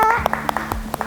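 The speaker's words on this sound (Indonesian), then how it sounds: "Campuran kata Ibnu, tepuk tangan juga." Classroom clapping: a short run of separate, fairly sharp claps in an uneven rhythm, a handful of people applauding after a tone fades at the start.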